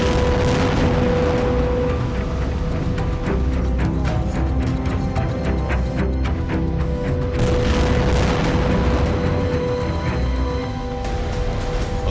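Loud explosions and heavy gunfire from Israeli military strikes, with dense rolling booms and rapid bursts crowding together continuously, close and harsh.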